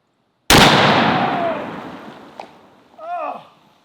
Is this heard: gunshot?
yes